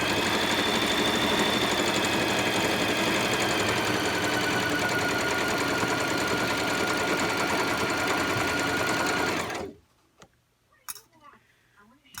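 A sewing machine stitches a Christmas stocking with a loud, steady, rapid mechanical whir and clatter that runs unbroken for about ten seconds, then stops abruptly, leaving a few faint handling knocks.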